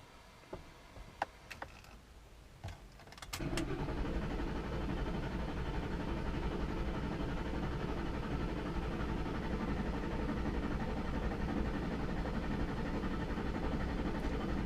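A Triton 5.4 V8 freshly fitted with a new timing set cranks over on the starter to build oil pressure: a few faint clicks first, then a steady, even, droning whir that carries on unbroken until the end, with no speech.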